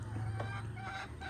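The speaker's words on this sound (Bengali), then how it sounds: "আরে বাবা, মোরগটা তো ডিমগুলো পাহারা দিচ্ছে" A rooster clucks near a clutch of eggs it is guarding. The short, close, throaty clucks sit over a steady low hum, and no one speaks.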